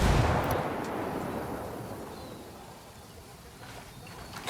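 A frag grenade goes off in the Ghost Recon Wildlands shooter game with a loud, rumbling boom at the start that slowly decays into a long, fading roll, while faint distant gunfire crackles near the end.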